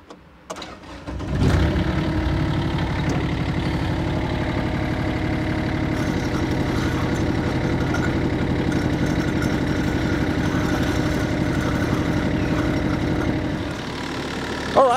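Mini excavator with a repaired track starts up close by, then runs at a steady, loud, rumbling engine drone while the track spins, easing down near the end.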